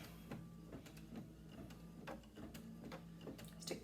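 A computerised embroidery machine stitching starched, folded quilt fabric, with a steady mechanical hum and regular rhythmic needle clicks and taps close by. No voices are present.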